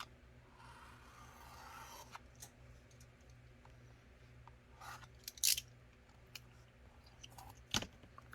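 Blue painter's tape pulled off a roll with a short ripping sound, then handled and pressed down with soft crinkles, small scrapes and a couple of sharp clicks, close and quiet.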